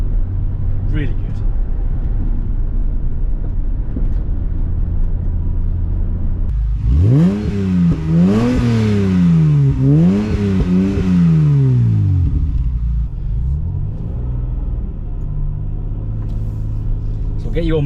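An MG ZS 180 Monogram Nocturne engine revs hard while driving, rising and falling through several loud, close throttle blips over a constant low cabin rumble before settling back to a steady drone.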